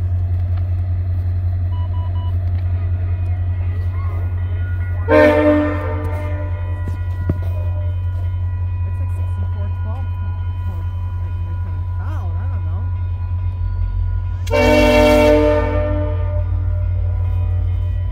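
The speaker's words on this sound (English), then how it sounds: "Yes, the train is coming." A VIA passenger train approaches a crossing in snowy weather, its horn sounding in two loud blasts over a constant low engine drone, with faint crossing bells and occasional voices nearby.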